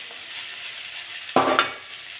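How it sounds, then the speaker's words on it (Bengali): Long green beans and potatoes, with a little sugar, frying in a pan on low gas; a soft, steady sizzle gives way midway to a sharp metal spatula scrape and a clink, then the quiet sizzle returns. "গ্যাসটা কম করে ভাজা তো আস্তে আস্তে করবো"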